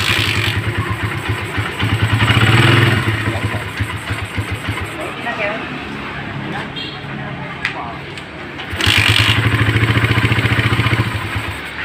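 Motorcycle engine fitted with a PE carburetor, set up for a rough-running and stuttering fault, turns over and settles into a loud close idle with a rhythmic chugging pulse, briefly revving and dipping as someone speaks over it.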